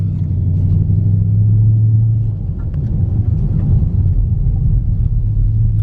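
A Mopar SRT car drives steadily, its low engine rumble loud and continuous from inside the cabin, with no talking.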